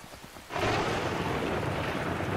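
Rain in the Skyrim video game swells in after a quiet half-second, becoming a broad, rushing downpour that holds at a steady level with a low rumbling undertone.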